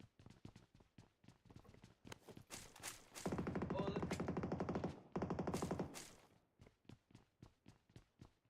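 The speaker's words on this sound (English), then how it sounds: "Somebody trying to shoot me with a bolt." Sustained gunfire in PUBG Mobile, a run of sharp shots clustered into two dense bursts in the middle, aimed at the player, with scattered single shots before and after and talk underneath.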